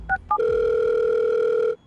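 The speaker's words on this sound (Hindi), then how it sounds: "अभी फोन मिलाता हूँ।" A phone being dialed gives two short keypad beeps, followed by a loud, steady tone that holds for over a second before cutting off, heard close with no talking.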